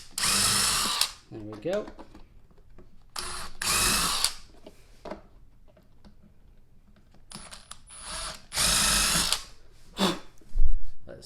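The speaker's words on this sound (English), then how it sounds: "Now with the impact driver, I'm not using any impact. I am just carefully screwing them in" A handheld impact driver runs in short bursts, driving half-inch screws into a Forevermark cabinet drawer without impact mode, close and loud with gaps and faint handling noise between, and someone speaking briefly.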